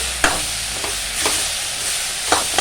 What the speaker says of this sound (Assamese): এতিয়া মই লাহে লাহে কিছু সময় এইদৰে লৰাই থাকিম